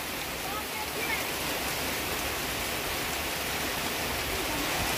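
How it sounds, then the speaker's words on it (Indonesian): Heavy rain pours steadily as a continuous broadband hiss, loud and unbroken for the whole stretch, recorded outdoors during a train-watching outing near a rail line. "Hujan semakin gede."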